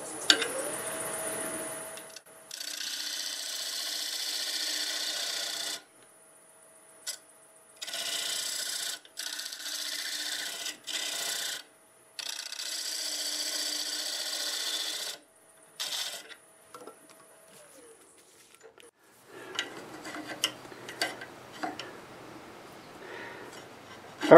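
A parting tool cuts into a London plane bowl spinning on a wood lathe, giving steady raspy scraping in several long bursts with short pauses, then lighter scattered scratches toward the end.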